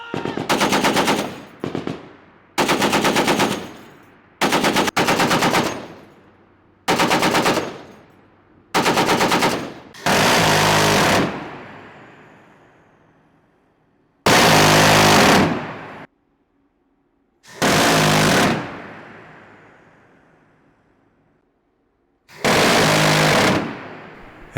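Browning heavy machine guns aboard the aircraft carrier HMS Prince of Wales firing repeated loud bursts of rapid fire, each burst sharp and close with echoing tails rolling out across open sea between them.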